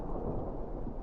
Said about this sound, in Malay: Dia guruh, kilat, hujan semua dah.